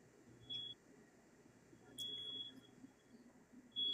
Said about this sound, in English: I have a fire alarm going off.